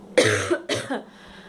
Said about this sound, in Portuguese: Ainda tô com uma tosse muito ruim.